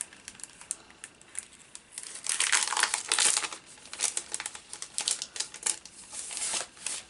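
Plastic packaging on a Heidi Swap "Me Time" scrapbooking sticker kit being opened, with close, loud crinkling and crackling in uneven bursts that build through the middle and continue in choppy rustles, and no voices.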